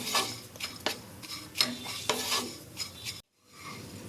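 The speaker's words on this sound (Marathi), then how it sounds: "आता आपण हे सुकं खोबरं आहे हे छान खमंग असं भाजून घेणार आहोत" Dried coconut being stirred and roasted in a pan, with quiet repeated scraping and rustling strokes of a spoon against the metal, close and soft, ending in a brief silence.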